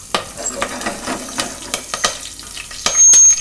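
Asafoetida and curry leaves hit hot oil for Gujarati shaak parotha, giving a crackling sizzle with sharp scattered pops and a loud burst of spitting near the end.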